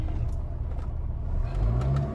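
Jeep Renegade diesel 4x4 engine revving and accelerating off-road, a steady low rumble that swells louder toward the end, with no talking.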